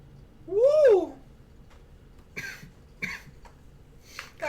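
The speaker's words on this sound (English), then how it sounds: "That actually made me cough." One short harsh cough after inhaling from a vape, close and loud near the start, followed by a few faint breathy throat noises.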